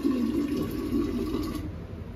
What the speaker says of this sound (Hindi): तो यहाँ पे आयान ने डाला है नॉर्मल पानी और थोड़ा सा फ्रिज का पानी।